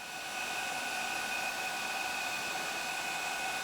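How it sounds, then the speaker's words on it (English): The pump of a JX-F1650 RC hydraulic crane whines continuously while it works to raise the middle arm, a steady high-pitched electric drone with constant loudness throughout and no voices. "It's moving only very, very slowly, so maybe need to increase pump load to operate middle arm to rising up."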